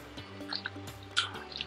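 Quiet close-up chewing and smacking of a taste of bongo sauce made with pig trotters, small wet mouth sounds scattered irregularly over a low background hum.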